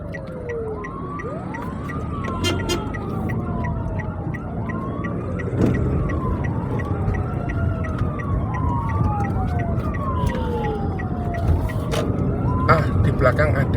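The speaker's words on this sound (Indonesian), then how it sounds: "ada mobil pemadam kebakaran maksudnya guys" A fire engine passes with its siren wailing in repeated rising and falling sweeps over busy traffic rumble, loud and close, while a person talks underneath.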